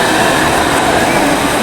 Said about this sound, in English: There's trains.